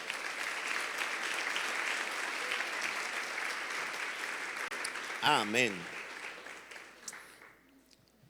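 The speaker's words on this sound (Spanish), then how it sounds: "Dale un aplauso fuerte a Dios" Loud, sustained applause from a church congregation during a sermon, with a short spoken word cutting through before the clapping fades out.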